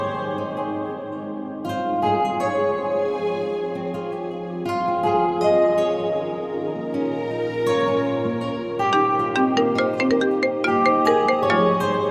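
A phone rings with a bright melodic ringtone, a repeating chiming tune that plays loudly and steadily with no talk over it.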